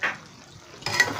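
Ghee sizzles briefly in a pan while chicken kofta is being cooked, with a short burst of frying hiss that swells near the end of the moment, close and moderately loud.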